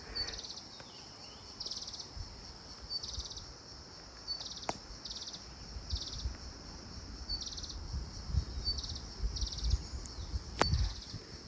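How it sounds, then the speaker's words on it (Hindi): Thin, high chirping calls from small green birds repeat in short bursts over a steady insect-like hiss in a quiet mountain forest in Himachal Pradesh, with a couple of sharp clicks near the end. "मैं आपको चिड़िया की आवाज़ सुनाता हूँ।"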